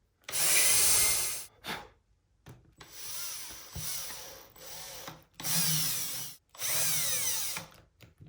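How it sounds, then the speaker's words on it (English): Cordless power drill boring pilot holes through stacked wooden flag strips in several whining bursts of about a second each, separated by short pauses, close and loud with no talking. "I generally just try drilling through the top piece."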